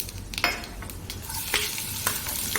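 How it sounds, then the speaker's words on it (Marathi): Mustard seeds and cumin hit hot oil for a Marathi-style tempering, giving a loud, close crackling sizzle with sharp pops as the seeds splutter over a low hum, and no voices. "फोडणी टाकून घेऊया आता इथं पटपट मोहरी टाकले जिरे"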